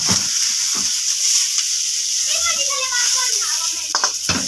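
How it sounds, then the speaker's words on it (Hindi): Tomato, capsicum, cabbage and onion sizzle steadily in a hot pan, a constant close frying hiss with occasional stirring scrapes and soft clatter. "ये मैं हल्का सा फ्राई करूंगा इसको, तो बड़ी अच्छी सी खुशबू आ रही है।"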